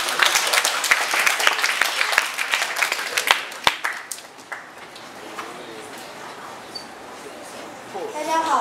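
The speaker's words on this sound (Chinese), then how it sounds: "热烈掌声欢迎他们" A burst of crisp applause welcoming a student group to present at a school event, loud clapping for about four seconds that thins to a few scattered claps and fades into quieter room sound with voices.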